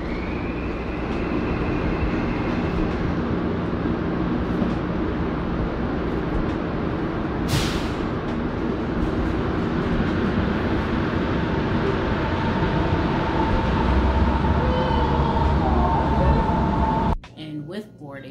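An airport terminal train rolls along its track with a steady, loud rumble and hum that persists throughout, ending abruptly with a short clunk and shift in sound near the end.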